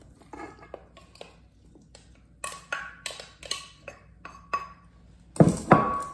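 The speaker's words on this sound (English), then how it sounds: "we are going to add 4 cups of rhubarb" Chopped rhubarb for a rhubarb pie tumbles into a mixing bowl, giving a run of light clinks and taps on the bowl that end in a louder scraping rattle, close by with no talk.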